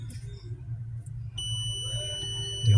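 Auto continuity tester checking a refrigerator component, giving a steady high electronic beep tone that starts partway through and holds to the end over a low background hum.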